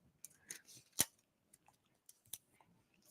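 Scissors snip through a taped-together paper sewing pattern in a quiet room, a few sharp separate cuts spread unevenly, one louder snip standing out among softer rustles.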